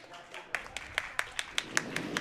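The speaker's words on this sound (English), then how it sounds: "a round of applause for the teams coming off the ice from Sheet C." Steady, rhythmic clapping from a few pairs of hands at a curling bonspiel, fairly faint and slightly distant, against a low background hum.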